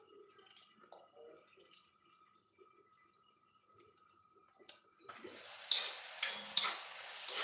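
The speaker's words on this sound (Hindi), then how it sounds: "हमारा जो है मसाला अच्छे से भुन गया है।" Masala spices roast in a pan and are stirred, with soft scraping and clinks giving way to a louder, steady sizzle punctuated by a few sharper bursts of frying.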